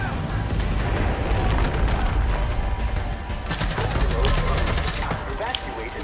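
Rapid gunfire from Far Cry 5 during the Faith boss fight, with dense booming shots throughout and a fast crackling burst in the middle, all set against a busy game soundscape while a voice talks over it.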